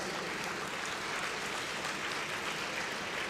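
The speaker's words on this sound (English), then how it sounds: "we should have a round of applause for your parents" A graduation-day audience gives a steady round of applause for parents, dense clapping filling the whole stretch without a break and with no voices on top.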